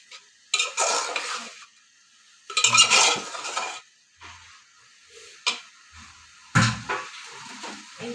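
Onion-based masala for a shing fish curry being stirred in a pan, with several bursts of scraping spatula strokes against metal and a light sizzle, separated by short pauses.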